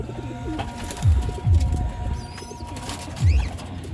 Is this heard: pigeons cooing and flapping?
yes